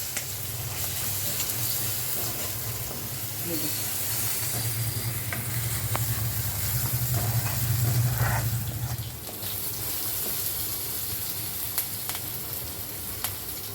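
Chopped tomatoes fry in a pan with a steady close sizzle while being stirred around, the hiss swelling and easing with each pass of the spoon, and a few soft scrapes and clinks breaking through.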